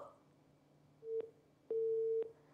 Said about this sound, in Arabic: طب الخط فصل